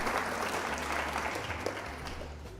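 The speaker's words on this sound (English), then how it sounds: "let's give a round of applause for Dennis as well for submitting your Boomer report." Applause from a livestream audience for a viewer's submitted report, a steady dense patter of clapping sustained through the whole stretch at moderate level, with no voices on top.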